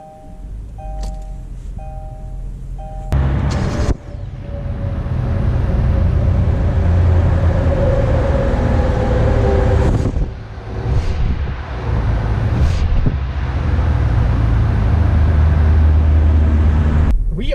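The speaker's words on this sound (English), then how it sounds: "let's take the 2020 Kia Soul out to see how it drives" A 2020 Kia Soul starts up and drives, a steady interior engine and road hum rising as it moves, with brief clicks and shifts in between and no talking.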